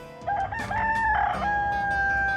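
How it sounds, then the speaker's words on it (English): Rooster crowing with a long sustained call, close and clear, with faint clucking around it on a farm. "Now we see a chicken. The chicken says, cock, cock."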